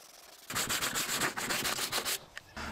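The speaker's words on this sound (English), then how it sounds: "we completely sanded away all the rust" Sandpaper scrubs rust off a steel car body panel down to bare metal in rapid back-and-forth strokes, loud and close, starting abruptly after a brief quiet moment and ending with a couple of light taps.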